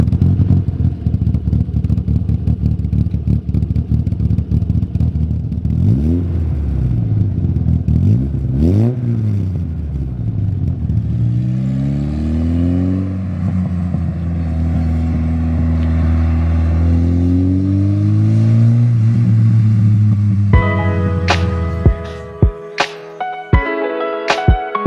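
A modified 1981 Volkswagen Scirocco engine revs up and down close by. The throaty exhaust rumble rises and falls in several sweeping pulls, then drops to a loping idle before a few sharp clatters.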